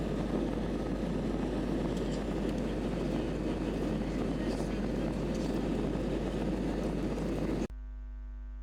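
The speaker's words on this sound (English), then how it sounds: "here's the takeoff from Kefalonia" An airplane takes off from Kefalonia, heard from inside as a loud, steady engine roar with a deep hum. The roar holds constant for several seconds before cutting off abruptly.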